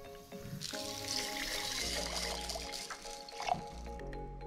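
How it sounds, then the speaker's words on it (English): Water pours and trickles into the drum of a cheap tumbler polisher, a steady splashing fill lasting a few seconds with a low hum and tonal noise underneath. "Alright, so we'll throw some water in here"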